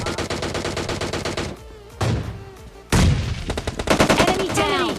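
Rapid bursts of gunfire from upgraded guns in a shooting video game, loud and dense volleys with brief pauses and a few booms, mixed with faint voices.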